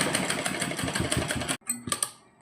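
A sewing machine stitches fabric along chalk marks in fast rhythmic bursts of needle clatter, then stops abruptly and gives a few short, sharp mechanical clicks.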